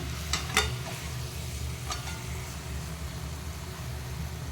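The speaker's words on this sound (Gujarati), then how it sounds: "હવે આપણે એને આવી રીતે ધીરે ધીરે હલાવી લેવાનું" Dry potato bhaji stirred slowly in a pan, with a few soft scrapes over a steady low background hum.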